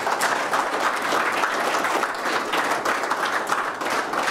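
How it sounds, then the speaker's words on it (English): Steady, loud applause from a crowd after a panel Q&A session, continuous dense clapping holding level throughout with no voices over it. "needs a big round of applause"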